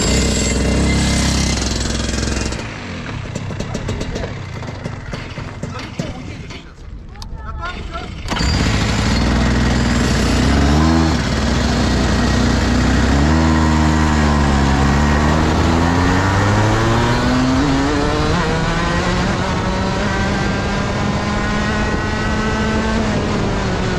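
Rotax Max go-kart engines drive on a track in Ulyanovsk, a loud, buzzy two-stroke drone that dips and then climbs through repeated rising revs as karts accelerate. A brief voice cuts in over the engine noise.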